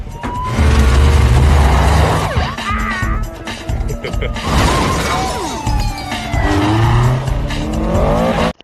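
Cars speed through a police chase in the film Fast Furious 2, with loud, sustained engine roar, repeated tire squeals and skids, and a possible crash impact near the middle.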